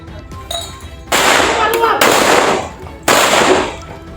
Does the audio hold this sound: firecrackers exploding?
yes